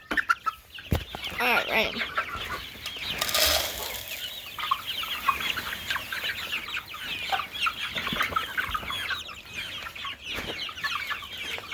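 Hungry chickens cluck busily around a feeding tray in a barn on a windy day, a dense chorus of close, overlapping clucks that runs throughout, with a brief spoken word near the start.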